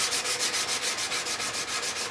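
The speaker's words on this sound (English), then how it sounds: "The problem with hand sanding is you got to use a lot of sandpaper." Steady back-and-forth rasping of sandpaper hand-sanding a metal knife blade, even rhythmic strokes about five per second, close up and continuous with no talking.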